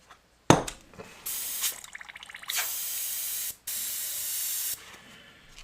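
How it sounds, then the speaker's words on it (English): An airbrush sprays in uneven bursts: a hissing spray that starts and stops, sputters irregularly, then settles into longer steady hisses with brief breaks. It is close and fairly loud, and no voices are heard. "So this brush is spraying a little funky."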